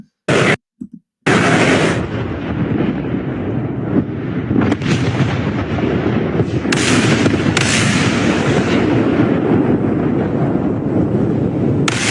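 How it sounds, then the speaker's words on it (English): Arleigh Burke-class destroyers fire air defense missiles with a loud, sustained roaring blast. After a few short bursts at the start, a continuous heavy rumble fills the rest of the clip, with no voices. "Arleigh Burke-class destroyers firing their air defenses to protect the carrier"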